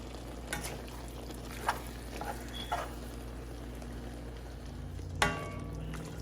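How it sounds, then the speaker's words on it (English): Ground beef cooking in a pan over medium heat, a soft, steady sizzle with a few light utensil taps and one sharper clatter near the end, no talk. "we're going to go ahead and let our ground beef cook on a medium heat"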